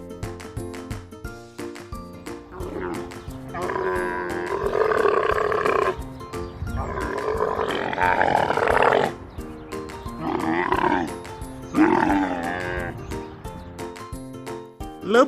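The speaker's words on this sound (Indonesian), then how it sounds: "Unta bahasa Inggrisnya camel." Camel vocalizations: a series of loud, groaning roar-like calls in bursts over a background of children's music, each lasting a second or two, repeated several times.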